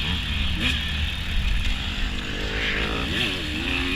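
Dirt bike engine droning steadily through a hare scramble trail race, with pitch sweeps as the rider works the throttle; loud, continuous, and close throughout with no talking.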